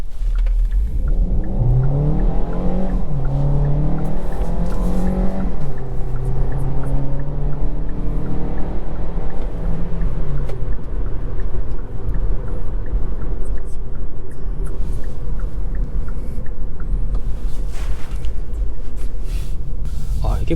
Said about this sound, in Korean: 본격적으로 주행을 시작하기 전에 가속 테스트 한 번만 해볼게요.